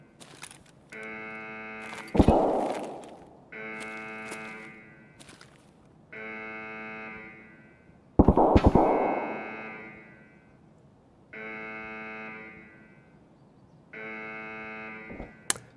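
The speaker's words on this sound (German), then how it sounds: "die Alarmanlage" A buzzing alarm system in the video game Escape From Tarkov sounds in repeated harmonic bursts of about a second and a half each, with short gaps between them, steady and fairly loud, punctuated by two sharp noisy thumps.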